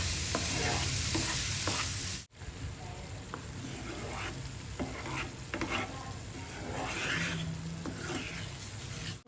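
Onion-tomato masala is stirred and sautéed in a pan, giving a steady sizzle broken by repeated scraping strokes of a spoon. One sharp cut briefly interrupts it.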